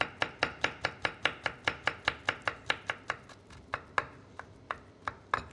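Knife chopping ingredients into small pieces on a board for Turkish Mengen soup, a steady run of about twenty sharp, close taps at an even brisk rhythm, slowing slightly toward the end.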